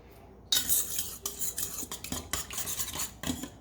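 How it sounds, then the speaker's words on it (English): Whisking syrup and eggs together in a bowl for keto pumpkin spice pancake batter, a run of quick, close metal-on-bowl clinks and scrapes with brief pauses and no voices. "I'm going to whisk this all together"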